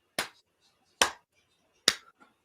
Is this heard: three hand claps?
yes